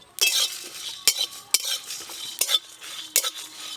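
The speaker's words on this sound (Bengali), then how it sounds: "শুকনো লঙ্কা, গোটা জিরে আর নিয়েছি গোটা ধনে, একসঙ্গে ভেজে নেব।" Dried red chillies, whole cumin and coriander seeds dry-roasting in a pan, stirred with a utensil that scrapes and clacks against the metal in sharp, irregular strokes, close and clear with no talk.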